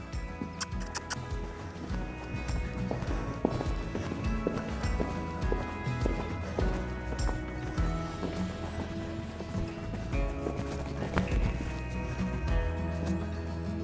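A ridden horse's hooves drum on soft ground in a quick, rolling three-beat canter rhythm, fairly faint and distant, with occasional rustles and a low voice in the background.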